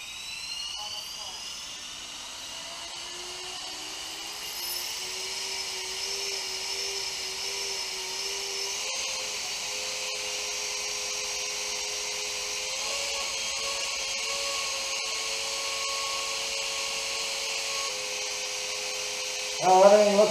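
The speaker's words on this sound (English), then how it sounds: "blades off, first spool up. Blade 360" A Blade 360 RC helicopter motor, blades removed, spools up steadily from low to a higher whine, its pitch rising in steps and hunting slightly under the governor, a continuous near electric whir with a brief sharp burst at the end.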